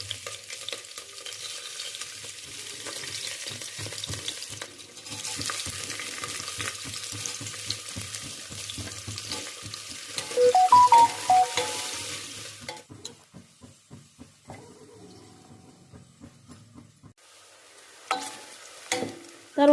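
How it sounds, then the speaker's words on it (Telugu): Green chilies and finely chopped onions sizzle and crackle in hot oil, stirred with a utensil that scrapes and clicks against the pan; the frying fades and quiets partway through, then picks up again near the end. "అండ్ నెక్స్ట్ పచ్చిమిరపకాయలు, సన్నగా తరిగిన ఉల్లిపాయలు వేసుకుని వేయించుకోవాలి."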